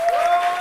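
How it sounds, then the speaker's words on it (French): A comedy show audience breaks into a short burst of dense clapping, steady and fairly close, lasting under a second. "S'il vous plaît, applaudissez son courage"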